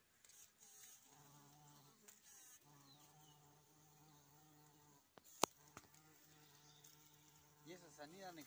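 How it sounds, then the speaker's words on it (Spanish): A Chilean moscardón, a large fuzzy bumblebee-like insect, drones with a faint steady hum outdoors in Los Muermos, with quiet talk underneath and a brief sharp click midway. "Precioso el color de este insecto chileno."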